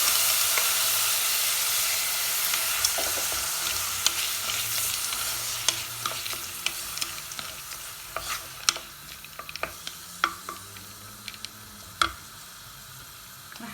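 Frozen peas sizzle and fry in a hot pan with oil, a steady hiss broken by sharp scraping clicks and taps of a spoon stirring them, close and clear, with no voices.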